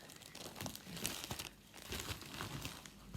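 Parcel packaging being unpacked for a craft supplies unboxing, with steady crinkling and tearing of plastic and paper wrapping up close, rustling in bursts for a few seconds with no talk.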